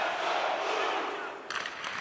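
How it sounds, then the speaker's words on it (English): Arena crowd roar in an NHL video game playoff simulation, Jets at Blues: a broad, sustained wash of cheering that swells and then eases, with faint commentary creeping in near the end. "You can feel the energy in this crowd."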